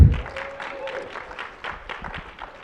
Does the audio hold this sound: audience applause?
yes